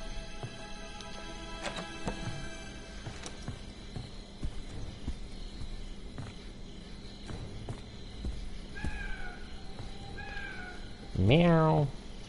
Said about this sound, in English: Is there a fucking cat in here?